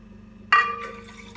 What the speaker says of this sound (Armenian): մածունը շփելուց հետո ավելացնում ենք ջուր